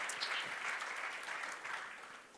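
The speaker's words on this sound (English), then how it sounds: "I think that deserves a little round of applause" Brief round of audience applause at an interview event, a steady wash of many hands clapping at moderate level, fading slightly toward the end with faint speech mixed in.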